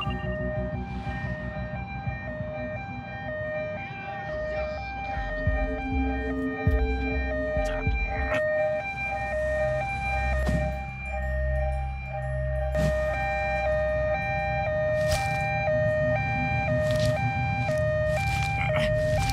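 A stepped, wailing ambulance siren in Police Simulator: Patrol Duty alternates between two pitches, layered over a low engine hum and scattered game sounds, with sharp clicks near the end.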